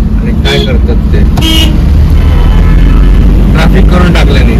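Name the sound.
road traffic with car horns honking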